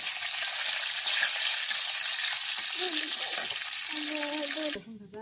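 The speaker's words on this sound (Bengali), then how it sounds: "এই যে আমাদের রসুনটা ভাজা হয়ে গেছে" Garlic fries in a pan with a loud, steady sizzle, close by, while a voice talks over it before the hiss suddenly cuts off.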